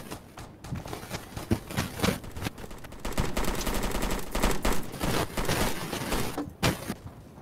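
Bursts of gunfire crackle steadily through a squad patrol, mixing single shots with rapid machine-gun volleys that stay loud and dense throughout.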